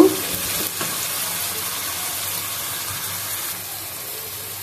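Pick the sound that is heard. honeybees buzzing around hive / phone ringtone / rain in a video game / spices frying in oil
spices frying in oil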